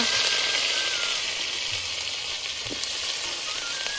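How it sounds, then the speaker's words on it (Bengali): Onions, chilies and potatoes fry in hot oil with a dense, continuous sizzling hiss, steady and close, with a couple of faint stirring knocks underneath and nobody talking. "এখন আমরা পেঁয়াজ মরিচ আলু ভেজে নিব"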